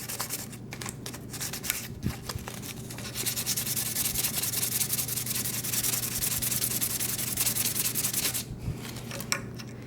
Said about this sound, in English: You can fold it in half and take your sandpaper